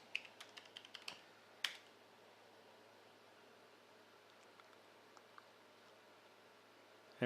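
A quick burst of keystrokes on a computer keyboard entering a passphrase, a handful of close clicks followed by a single sharper key press, then near silence with a faint click or two and a final tap.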